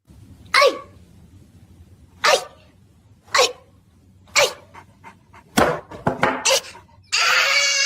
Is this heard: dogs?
yes